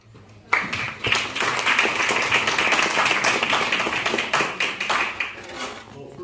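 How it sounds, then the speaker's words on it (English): An audience claps to welcome a school director: a burst of applause starts suddenly and holds as a dense, steady patter of many hands, with some voices mixed in. "I want you to help me welcome him with a clap"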